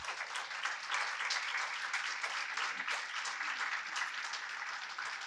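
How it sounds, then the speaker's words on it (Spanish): An audience at a literary event on Borges applauds for a guest named Roque, dense, steady clapping sustained for several seconds with no speech over it. "pido un aplauso para Roque"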